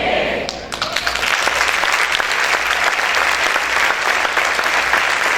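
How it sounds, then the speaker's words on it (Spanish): A church congregation bursts into loud, sustained applause filling the hall, dense clapping building quickly and holding steady, with a voice speaking over it. "Ese aplauso es para Jesucristo"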